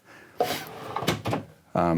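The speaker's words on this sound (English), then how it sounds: "we put this drawer so that you could stack tall cereal boxes in here" A kitchen drawer built to hold tall cereal boxes in a 2019 Renegade Classic 40-foot motorhome slides and knocks shut in a few quick thumps while someone talks close by.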